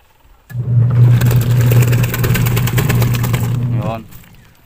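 A repaired secondhand washing machine motor starts abruptly and runs with a strong, steady low hum for several seconds before cutting off, leaving faint noise.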